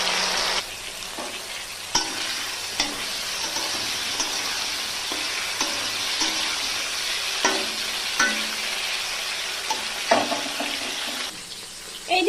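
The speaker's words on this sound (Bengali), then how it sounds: "সমস্ত সবজি আমি ভালো করে ভেজে নিচ্ছি" Vegetables coated in salt and turmeric fry in hot mustard oil in a wok, giving a steady loud sizzle with bursts of stirring and scraping throughout.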